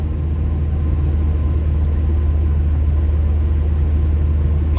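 Steady low engine rumble from inside a car driving to a veteran car meet in Sviadnov, with two Škoda 100s along; the drone stays constant and loud throughout, with no voices.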